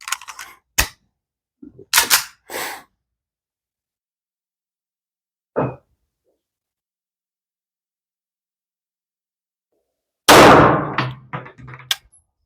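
A Rock Island Armory M1911 A2 pistol fires a magazine of roughly 115-grain ammunition, giving several sharp, loud isolated shots spaced irregularly with silent gaps, ending in a final burst of clatter.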